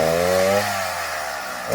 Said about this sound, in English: out here with the chainsaw this morning and just doing some tree lopping